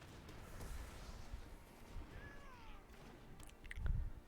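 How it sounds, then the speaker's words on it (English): A faint, brief cat meow from a digital card game, MTG Arena, rising and falling over low background noise with a few soft knocks. "Look at that kitty."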